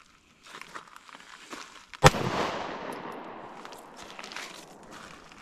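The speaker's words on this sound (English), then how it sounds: "You saw how the pistol will shoot without magazine in." A Stoeger STR-9 full-size 9mm pistol fires a single loud, sharp shot with its magazine removed, a close report that rings out and decays over several seconds amid faint outdoor range noise.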